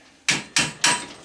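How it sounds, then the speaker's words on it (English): Three sharp, loud metallic strikes come in quick succession as a hammer hits a scrap microwave magnetron, each blow close and ringing briefly. "take a hammer"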